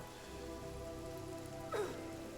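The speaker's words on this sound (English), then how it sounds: "I do have rain going on" Steady rain falling in the Divinity Original Sin video game, a continuous soft patter that runs throughout with a brief swelling sweep near the end.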